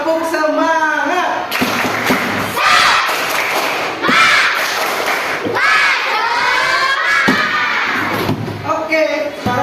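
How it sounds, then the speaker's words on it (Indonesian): Fourth-grade children in a classroom doing a rhythmic spirit clap, loud group chanting punctuated by sharp unison claps and thumps in a repeating pattern, with a teacher's voice between. "Tepuk semangat."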